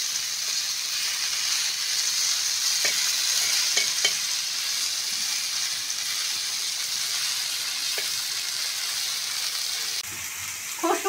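Lote, or Bombay duck, fish frying in a pan, a steady bright sizzle with a few soft stirring knocks, moderately quiet and continuous, ending in a brief clatter.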